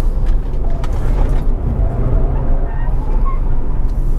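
An Ora Good Cat electric car accelerates uphill on a mountain road, giving a loud, continuous low rumble of tyre and road noise with a faint motor whine and no talking.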